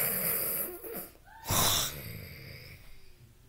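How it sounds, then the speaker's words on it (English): A loud snore in a quiet room at night, one rough rasping inhale swelling up and fading, heard alone without any talking. "You have the loudest snore in the universe."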